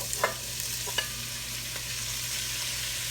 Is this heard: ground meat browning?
yes